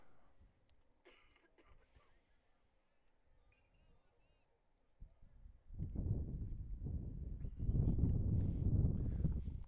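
Strong wind gusts at an outdoor high school baseball game in northwest Arkansas, low rumbling buffeting that swells loudly in the second half after a quieter stretch, with a voice talking over it.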